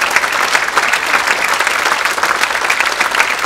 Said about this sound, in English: a round of applause for this fantastic band behind me